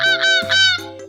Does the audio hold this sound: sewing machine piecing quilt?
no